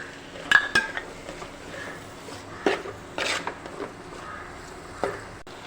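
Chopped tomatoes going into a curry pan of sautéed onions bring a few sharp metallic clanks and scrapes of a spoon on the pan over a faint sizzle, close and intermittent, with no talking.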